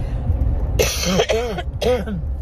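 A person with a dry throat clears it several times in quick, raspy bursts, loud and close, following a low murmur.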